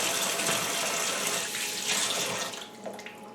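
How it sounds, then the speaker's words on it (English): Water pours out of a tipped orchid pot through its bottom holes into a cupped hand, a steady close splashing stream that thins and trickles off near the end. "hold your hand, the water does run out"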